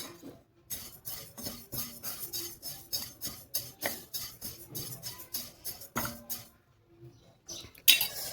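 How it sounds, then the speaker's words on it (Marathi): Fennel seeds dry-roasting in a pan are stirred with a spoon, a rhythmic series of light scraping rattles and taps, steady and close. "चला तर आपण घेऊया अगोदर बडीशोप भाजून."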